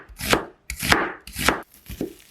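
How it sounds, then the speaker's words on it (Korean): A knife thinly slices an onion on a cutting board: four crisp, evenly spaced chops, close and clear, with no talking. "양파는 가늘게 썰어주세요."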